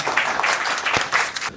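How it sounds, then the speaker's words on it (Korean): Audience at an architecture symposium claps to welcome the president of the Korean Institute of Architects, a short, dense burst of applause filling the room without voices. "회장님 박수로 모시겠습니다"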